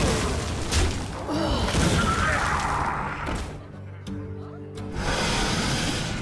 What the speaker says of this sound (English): Good, glad I saved my arcane explosion.